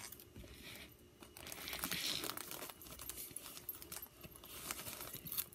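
Paper is handled and crinkled close up, a soft, irregular rustling and crackling that swells and fades in quiet bursts, with no talking.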